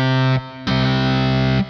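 An electric guitar played through a distortion effect in Logic Pro X rings out in two sustained, heavily saturated chords, loud and close, with a brief gap between them.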